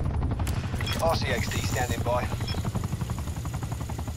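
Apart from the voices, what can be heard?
helicopter flying overhead in Black Ops 4 video game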